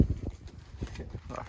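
A donkey's hooves clip-clop on the ground as it carries a load of firewood outdoors in rural Ceará, with a few close, uneven steps and faint voices nearby.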